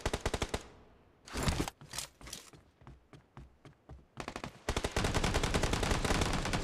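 Rapid bursts of video game shooter gunfire, crisp close volleys of automatic shots separated by short gaps, then a sustained dense rattle of machine-gun fire to the end, with no talk.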